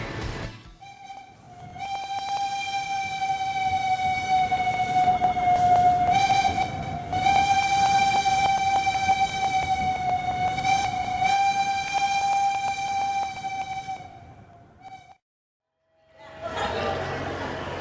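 A train horn sounds one long, sustained tone over rumbling rail noise at a railway station in Bandung, Indonesia, cuts off briefly, and then the rumble picks up again.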